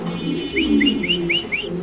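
A short series of soft rising whistled notes, about five in quick succession, over a low murmur of Beauty pigeons cooing close by.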